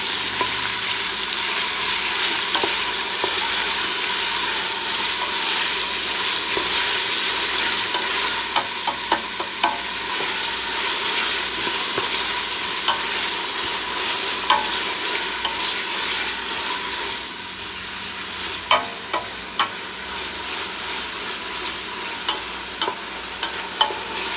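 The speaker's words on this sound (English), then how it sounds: "Now, you fry that together." Red peppers fry for beef stew in a hot pan, a loud, continuous crackling sizzle with occasional clinks and scrapes of a spoon stirring, heard up close and alone throughout.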